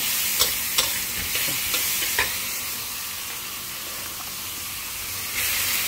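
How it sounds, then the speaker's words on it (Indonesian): Capcay stir-frying in a pan with onion, shrimp, garlic and tomato: a steady close hiss of sizzling oil with several sharp scrapes and clicks from stirring, no talk. "ini lagi masak capcay"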